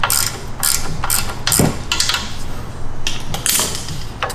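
Ratchet wrench clicking as it backs off the 14mm top mount nuts on a Toyota Tacoma strut, several close, loud bursts of rapid ratcheting with short pauses between.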